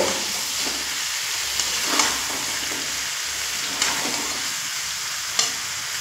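Pre-fried bottle gourd and potato frying in fish masala over a medium flame, a steady close sizzle broken by periodic spatula scrapes and stirring knocks against the pan.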